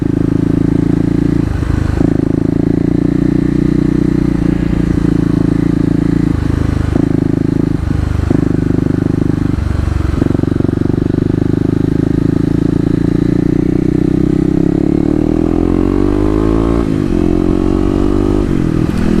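A Kawasaki KLX250 250cc motorcycle runs at speed along a highway with a loud, steady engine drone, broken by brief dips as gears shift and a rising rev near the end.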